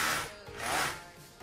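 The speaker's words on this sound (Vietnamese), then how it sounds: "đây chế độ khoan bình thường này." A Metabo KHA 18 LTX BL 40 18V cordless hammer drill runs in normal drilling mode, its faint whirring grind swelling and easing in two waves, with no talk over it.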